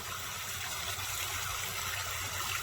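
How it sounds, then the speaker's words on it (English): Water pours steadily down a stone backyard pond waterfall, a continuous close rushing and splashing that holds even throughout with no gaps or voices. "There's the waterfall."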